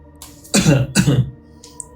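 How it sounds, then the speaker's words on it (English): Two short, rough coughs in quick succession, close and fairly loud, followed by quiet. "I said with a cough."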